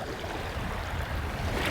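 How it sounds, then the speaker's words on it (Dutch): Water waves move on open water in a steady, broad rushing wash that is loud and continuous with no pauses and no voices. "als je hier naar het water kijkt en de golven"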